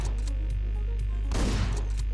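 Gunfire from the top-down action game Hotline Miami, a burst of shots landing around the middle over a steady low game soundtrack hum, with lighter pops scattered before and after.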